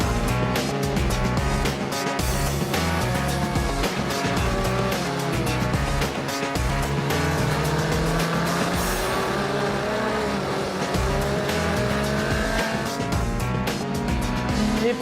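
A race car at a driving academy track is heard from on board as it runs fast through long curves, a loud, continuous engine note rising and falling through the gears, with no talking over it.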